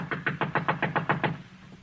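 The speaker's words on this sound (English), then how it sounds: "Knock again" Knocking on a door in an old-time radio suspense drama: about nine firm, evenly spaced raps in quick succession, close and clear, then stopping.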